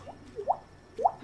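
Voice imitating distant water droplets with mouth pops, two soft rising plinks about half a second apart, faint and isolated against quiet background.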